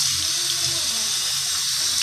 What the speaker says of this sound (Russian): Смотрим, что снизу утекает чистая вода.